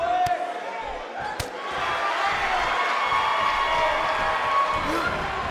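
A wrestling arena crowd in WWE 2K18, a Chicago audience, roars in a continuous wash of cheering and noise with a couple of sharp thuds near the start.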